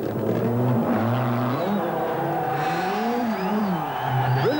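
A Peugeot rally car on the 1985 Monte Carlo Rally roars past, its engine note rising and falling through gear changes and revs, loud and continuous against outdoor background noise.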